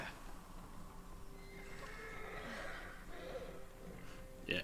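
A horse in the video game Ghost of Tsushima whinnies in a drawn-out, wavering call over steady background noise, with a sharp snort-like burst near the end.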